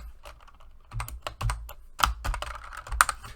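Keys clack on a computer keyboard in short irregular bursts of taps, close and fairly quiet, with brief pauses between groups of strokes and no voices.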